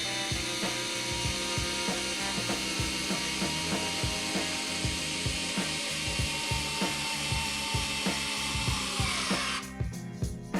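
A Fanttik NEX L1 Pro electric screwdriver drives a 2.5 inch wood screw into wood with a steady, close motor whine and rhythmic ratcheting ticks, stopping near the end.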